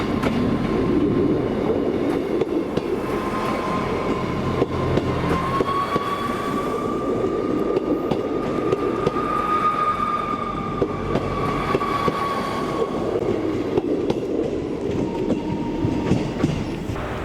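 ScotRail Class 158 units 158712 and 158719 run through Perth station on an Inverness to Glasgow Queen Street service, with a loud rumbling roll, rhythmic wheel clatter and a sustained high wheel squeal through the middle.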